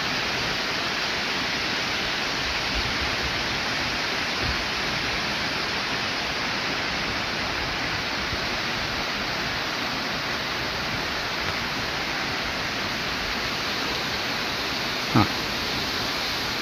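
Water leaking through cracks in the cement wall of the Kalammawadi dam on the Dudhganga river, a steady broadband rush like a waterfall running unbroken throughout, with a brief sharp knock near the end.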